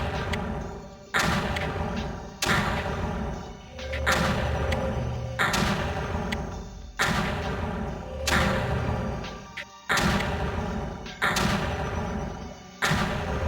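Heavy mortar shots in the Creeper World strategy game fire in a steady series, about ten loud thuds spaced roughly every second and a half, each with a sharp onset and short decaying tail.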